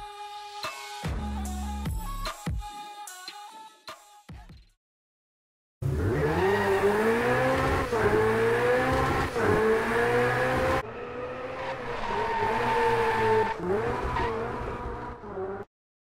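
A Ferrari 488 GTB sports car revs and pulls away, its engine rising and falling through gear changes with a brief tire squeal, loud and near, split by a short silent gap.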